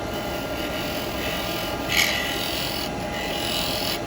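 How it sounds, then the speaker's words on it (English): Steady grinding, rasping noise of a drill bit cutting into wood on a lathe, continuous and close, with a brief louder burst midway. "So I'm going to drill down into that,"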